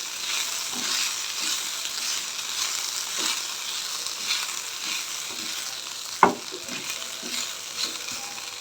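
Onions frying in a pan for samosa filling give a steady close sizzle with occasional stirring scrapes and one sharp utensil knock partway through, with no voices.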